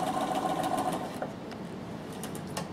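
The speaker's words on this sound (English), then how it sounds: "you just do want to sew from point A to point B there" A sewing machine stitches a straight seam on a Bernina Bondi top, a steady close hum that eases slightly partway through, with no talking.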